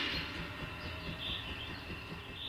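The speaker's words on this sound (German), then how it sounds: "Führerstandsmitfahrten auf der großen Dampflok der Rügenschen Bäderbahn" A narrow-gauge steam locomotive of the Rügensche Bäderbahn on Rügen rumbles along with a steady rolling drone and faint rhythmic rail clatter, continuous and moderately distant, with no talking.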